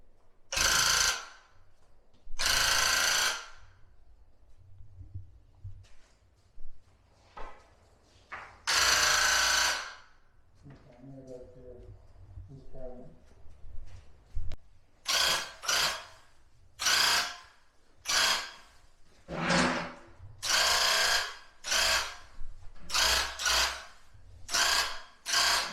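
A high-pressure paint sprayer coats kitchen cabinet doors outdoors. It gives repeated loud, close hissing bursts, a few long passes early on, then a quick run of short sprays separated by brief pauses.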